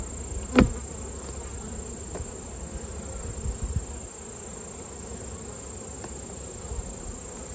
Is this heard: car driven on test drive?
no